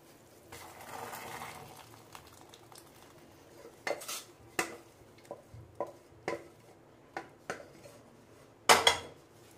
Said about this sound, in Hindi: अब हम इसे मिक्स करेंगे।